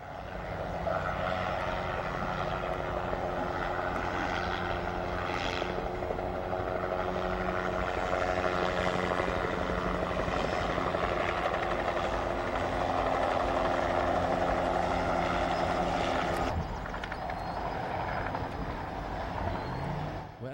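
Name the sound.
helicopter flying low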